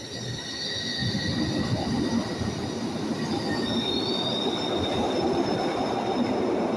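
A Glasgow Subway train rumbles steadily out of Govan station, its wheels squealing in high drawn-out tones over a loud continuous roar.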